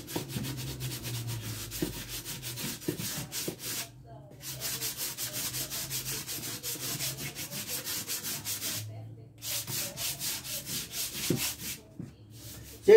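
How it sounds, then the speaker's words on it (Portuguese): Sandpaper rubbed by hand over a vase made from milk cartons, a steady scratchy back-and-forth rasp in long strokes, briefly stopping twice. "Vamos acertar a lixa aqui."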